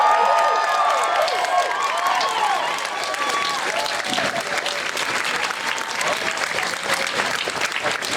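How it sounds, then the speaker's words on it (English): Crowd at an outdoor trans and intersex pride rally in Dublin applauds and cheers, steady dense clapping with whoops throughout, fairly close and continuous. "We could give them a cheer, I think."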